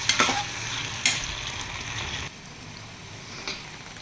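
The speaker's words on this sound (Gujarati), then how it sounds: "ગેસની ફ્લેમ પર આપણે બટેટાને સાંતળવાના છે" Potatoes sauté in oil in a pan over a gas flame, with a scraping stir and clatter at first, then a softer continuous sizzle and one more stirring knock near the end.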